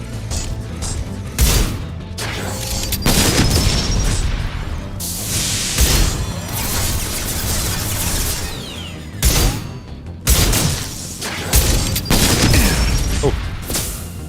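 Shotgun blasts and combat noise in Mass Effect 2 Legendary Edition, several loud booming shots scattered across the stretch amid crashes and ongoing battle sounds, with brief player talk in between.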